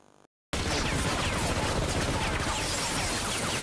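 Victor's men open fire on Caleb's office in a film scene: after a brief quiet moment, a loud, dense burst of sustained gunfire erupts and continues unbroken, with clattering impacts and no talking.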